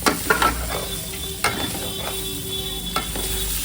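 Ginger garlic paste fries in hot oil for biryani, a steady close sizzle with a few scraping stirs of a spoon against the pot, no voices.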